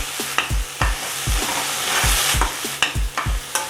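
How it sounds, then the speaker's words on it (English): Paneer butter masala being stirred in a pan, a spoon scraping in a steady rhythm of sharp knocks against the metal over a continuous frying sizzle, close and fairly loud with no voices. "Let's give this a stir."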